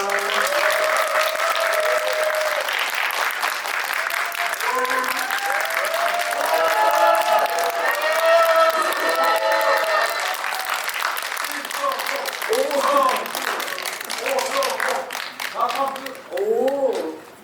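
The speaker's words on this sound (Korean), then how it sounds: "큰 박수로 맞이해 주세요" A Korean cinema audience claps loudly to welcome film directors and an actor at a guest screening talk: continuous full-room applause lasting many seconds, with an announcer's voice carrying over the top throughout.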